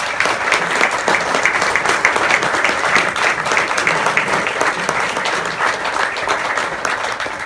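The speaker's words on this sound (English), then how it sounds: "please join me in applauding our honorees again" Sustained, dense applause from an audience at a racial justice awards ceremony honoring award recipients, steady and full throughout with no voices standing out.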